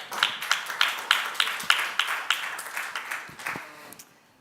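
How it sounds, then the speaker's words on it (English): Applause from an audience at a startup pitching competition semi-final, a steady run of distinct, fairly close hand claps in a regular rhythm that thins out and fades at the end, with no talk over it. "And please, big round of applause next up for 5 minutes pitching, Finisi from the UK."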